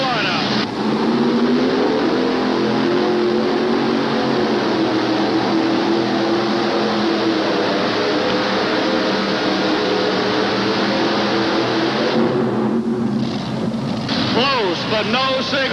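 A modified pulling tractor engine roars down the track at a 1988 tractor and truck pull in Charlotte, North Carolina, a loud sustained drone, then fading and shifting near the end, with an announcer talking over it.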